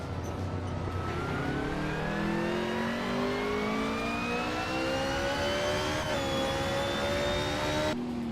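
A 1992 Citroën AX GTI in a racing video game revs steadily higher through a long climbing pull, with a brief shift and then more climbing, loud and constant from start to end with no talk.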